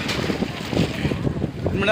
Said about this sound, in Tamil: பயங்கரமான வெயில் காற்று அப்படி ஒரு காற்று அடிக்குது பாருங்க